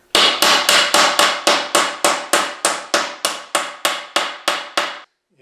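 Steel bushings, 1/2 inch outside and 3/8 inch inside diameter, hammered into a wooden extension-table leaf: about fifteen sharp, evenly spaced metallic blows over five seconds, loud and close with no talk.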